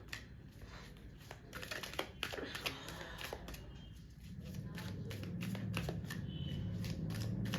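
Tarot cards shuffled by hand in a rapid riffling patter, close and continuous, with faint background tones and no clear talk over the flicking.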